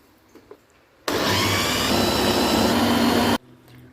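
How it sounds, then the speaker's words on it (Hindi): An electric chopper grinds spinach into paste, a loud steady whirring buzz that starts abruptly, runs unbroken for just over two seconds and cuts off sharply. "यूँ पालक को मैंने चॉपर में ऐड कर दिया"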